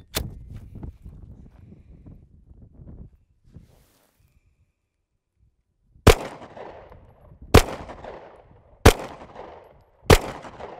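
Four sharp, loud Sig Sauer P320 shots firing reloaded 9mm ammo, spaced roughly a second apart, each with a short ringing tail, following a quieter stretch of rustling and handling sounds.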